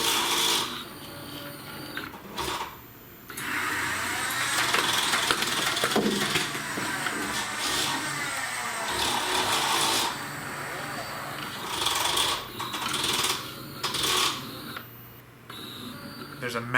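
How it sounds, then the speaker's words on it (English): An Arduino-driven stepper motor turns a Nerf turret gear system, making a sustained tonal whir that shifts in pitch in a sing-song way, broken by brief stops and restarts, with gear rattle underneath. "I actually think it's kind of a nice little sing-song sort of stepper noise now instead of a horrible grating."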